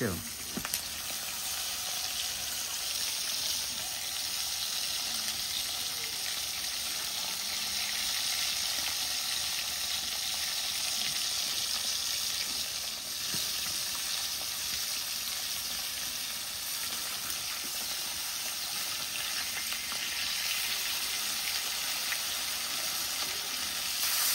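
Panikhia fish fries in a pan with an even, continuous sizzle that stays close and steady throughout, with only occasional faint stirring or clinking.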